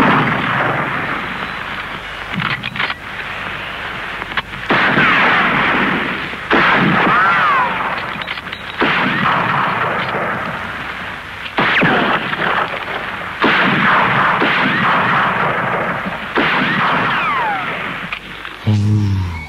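Loud bursts of gunfire effects crackle in long, dense stretches separated by brief pauses, harsh and close, with distorted booms and echoing reports throughout.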